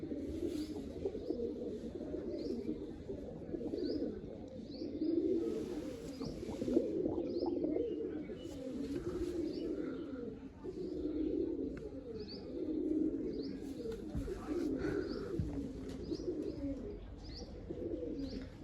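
Large pigeons coo steadily in a loft, a dense overlapping chorus of low throaty coos with a few faint chirps, close and continuous throughout.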